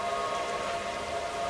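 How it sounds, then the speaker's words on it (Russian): Steady rain pattering in Outlast 2, an even, constant hiss of drops with a low tonal hum underneath, no other sounds. "дождь тут до сих пор идет"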